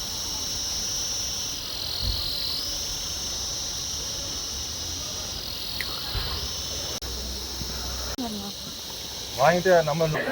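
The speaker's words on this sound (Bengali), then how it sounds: "ভেতরে ঝিঝির ডাক" Crickets chirp in a constant high-pitched trill among trees in the hills of Gangtok, Sikkim, carrying on throughout, with a brief bit of nearby talking near the end.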